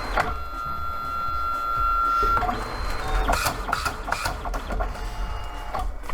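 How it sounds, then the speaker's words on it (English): Dye-sublimation photo printer making a 4x6 print and cutting it in half: a steady high tone, then whirring feed motors and clicking mechanisms, with a sharp snap of the cutter near the end. "it knew automatically, because I was printing a 2x6, to print out my 4x6 and cut it in half"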